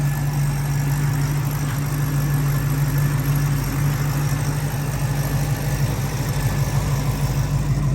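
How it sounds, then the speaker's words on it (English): A car engine idling steadily with a low, even rumble and a constant hum, close and continuous throughout with no talk. "The motor sounds fantastic, fires right up every single time."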